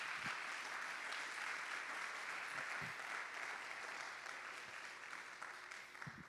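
A church congregation applauds during a sermon, a faint but steady dense wash of clapping from many people that thins slightly toward the end.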